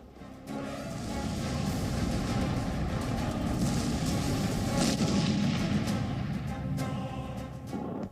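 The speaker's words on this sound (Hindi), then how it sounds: "पुतिन की इस विजिट के बाद कीव में धमाकों की शुरुआत हो गई।" Explosions in Kyiv from Russian missile strikes come through as a loud, sustained rumbling roar that starts abruptly and holds for several seconds, with a few sharper cracks inside it and no voices.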